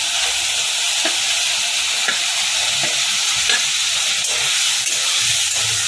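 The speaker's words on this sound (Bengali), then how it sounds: "এখন ভেজে রাখা আলু পটলটা এর মধ্যে দিয়ে দেবো। আরও মিনিট দিয়ে ভালো করে কষিয়ে নেবো আলু পটলটাকে দিয়ে।" Fried potatoes and pointed gourd sauté in spice paste in a pan. A loud, continuous sizzle and hiss fills the clip, with occasional soft stirring scrapes underneath.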